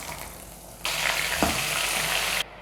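Cowpeas (karamani) tipped into a hot pan with oil, a sudden loud sizzle that bursts in and holds steady for about a second and a half before cutting off, heard close with no voices.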